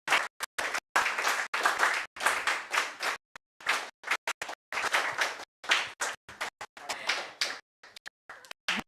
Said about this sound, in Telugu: క్లాప్ చేయండి